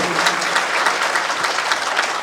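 Audience clapping at a gathering in the Shri Khatu Shyam temple in Delhi, a steady dense patter of many hands held for the whole stretch, close and fairly loud with no voices over it.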